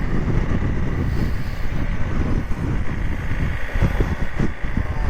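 Loud, gusty wind buffets the microphone with a constant low roar and rumbling bursts, no voices, on a ride in the Brecon Beacons.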